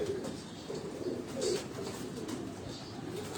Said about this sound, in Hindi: ये गोल्डन नस्ल का ये कबूतर है